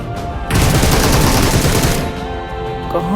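Rapid bursts of automatic gunfire in the PUBG battle royale shooter, a loud dense fusillade lasting about a second and a half, then fading to quieter ambient game sound.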